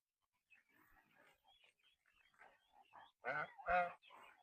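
Geese give a run of soft chattering calls that build into two loud, harsh honks close by.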